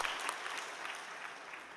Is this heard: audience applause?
yes